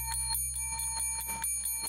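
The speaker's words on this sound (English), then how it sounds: "Ring the bell again." A bell rings in a rapid series of bright, repeated metallic strikes, close and clear over a low steady hum, with no talking.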